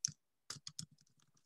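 A password typed on a computer keyboard: a few separate key clicks, then a quicker, fainter run of taps, close and quiet with no voices.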